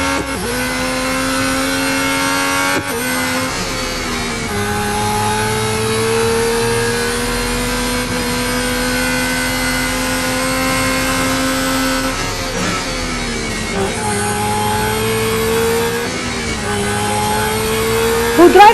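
A Red Bull race car engine in the mobile racing game Real Racing 3, whining loud and constant at high revs with a few quick gear-shift dips, with a second car nearby.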